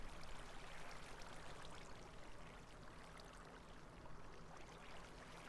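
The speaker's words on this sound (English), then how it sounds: "Yeah, you can hear the bubbling of water." Water from a fountain in a video game, a soft, steady bubbling and trickling flow that stays faint and continuous throughout.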